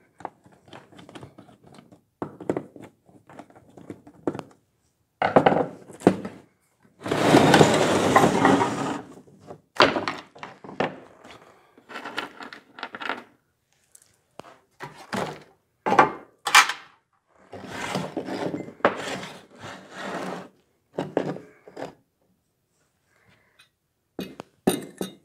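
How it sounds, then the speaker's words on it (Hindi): A high pressure sodium light fitting is opened and set aside, giving a string of close clicks, knocks and clinks from metal and glass parts plus a longer scraping rustle, with brief silences between the handling sounds. "इस लाइट को पहले मैं खोल के साइड पे रख दूँ।"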